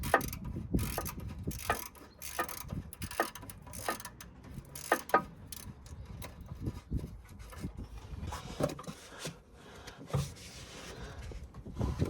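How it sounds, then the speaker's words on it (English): Ratchet with a 7mm socket undoing a Jubilee clip on a steering rack gaiter of a Clio 197/200, giving a close series of clicking, mechanical strokes in uneven bursts, with no talking. "just got to undo that Jubilee clip, which is a flathead or usually a 7mm socket"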